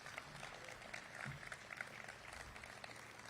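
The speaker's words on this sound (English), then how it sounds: "Let's give another round of applause to Governor Kathy Hochul." Audience applause for Governor Kathy Hochul at a transit hub project event, a faint, steady wash of clapping from a crowd that holds for a few seconds.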